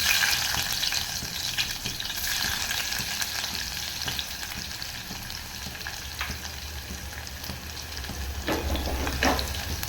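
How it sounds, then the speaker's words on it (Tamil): Garlic frying in hot oil as tempering for a moth bean sambar, with a constant crackling sizzle, occasional stirring scrapes, and no voices. "எண்ணெய் நல்லா கொதிக்கிட்டோம் நம்ம தாளிப்பு போடலாம் சூடாயிருச்சு நம்ம பூண்டு சேர்த்துக்கலாம்"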